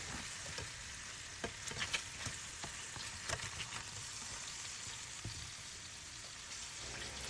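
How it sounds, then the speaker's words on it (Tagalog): Chicken pieces for tinola frying in a pan, a steady close sizzle with faint crackles and occasional soft clicks of a utensil, no voices. "Saktong fry lang siya para lang matanggal yung lansa."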